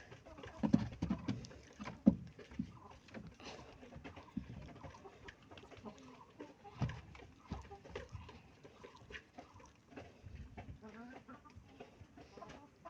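Tiger breed hens, laying eggs at four and a half months old, cluck softly and sporadically at a distance amid low farmyard rustling, with quiet sounds of people nearby.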